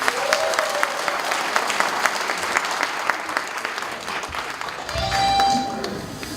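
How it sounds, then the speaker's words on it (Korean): Applause from the audience at a campaign office opening ceremony in Asan, a steady clapping crowd lasting several seconds, with some background voices under it. "큰 박수 부탁드립니다."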